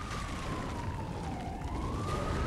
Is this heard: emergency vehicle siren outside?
yes